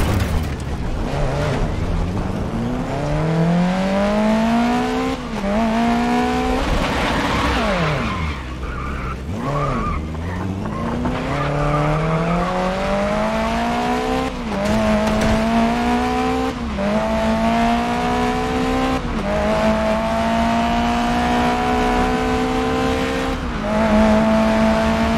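A race car in GRID Legends revs hard through handbrake slides. Engine tones climb and drop repeatedly, and tires squeal and skid loudly and steadily throughout, with no voices.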